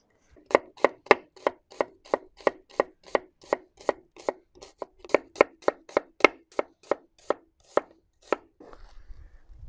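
A knife chops onions and meat on a board for Georgian shashlik: about two dozen close, crisp strikes in a steady, brisk rhythm that stop near the end, with no talking.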